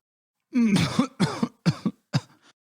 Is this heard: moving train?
no